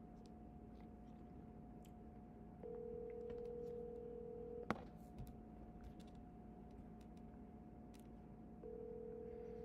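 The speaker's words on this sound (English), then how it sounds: "Can everybody hear the phone ringing okay?" Ringback tone on an outgoing phone call to a landlord, faint repeated ringing tones spaced several seconds apart over a low room hum, with a brief click in between.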